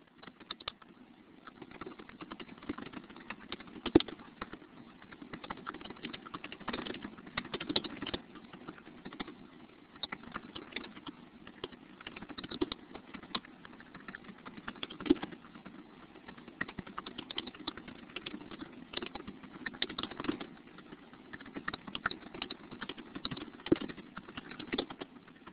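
Continuous, fast typing on a computer keyboard fills the whole stretch, dense irregular key clicks with occasional louder taps, close and steady with no talking.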